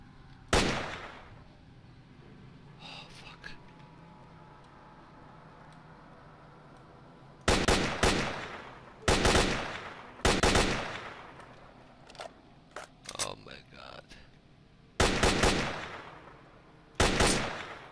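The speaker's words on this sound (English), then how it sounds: "This weapon is jamming every second." Gunfire from a jamming weapon in S.T.A.L.K.E.R.: Shadow of Chernobyl, loud short bursts of rapid shots repeatedly breaking off into pauses, about half a dozen volleys with scattered single clicks and shots between them.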